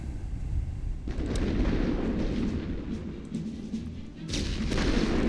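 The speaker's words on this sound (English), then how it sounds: "A good deal of enemy artillery right there." Enemy artillery rumbles across a World War I battlefield in The Great War: Western Front, with heavy booming blasts that roll together into a loud, sustained barrage with a short lull near the end.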